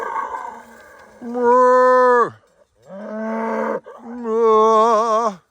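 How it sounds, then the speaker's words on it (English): Cattle mooing loudly nearby, three long drawn-out lowing calls in a row, separated by brief pauses. "The hills are alive with the sound of cattle."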